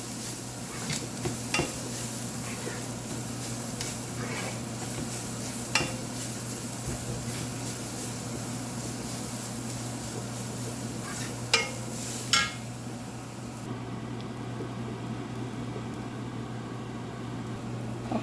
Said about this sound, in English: so I'm roasting it here in the oil